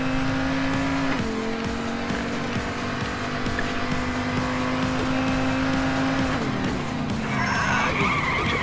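A car driving in a video game, its engine droning steadily while the tires squeal and skid through sustained slides, with a louder burst of squealing near the end.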